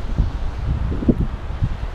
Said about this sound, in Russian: Погода ветреная